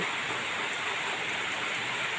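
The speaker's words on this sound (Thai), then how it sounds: "ฝนตกทั้งวันเลยนะคะวันนี้" Steady rain falls all day outdoors, a dense, even hiss of drops on surfaces that runs continuously without change or pause, with no voices.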